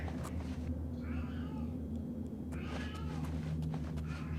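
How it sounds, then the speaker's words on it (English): A pet cat meows loudly from another room, several drawn-out yowls rising and falling over steady background hum from a video game. "I've got a cat yelling at me from the other room."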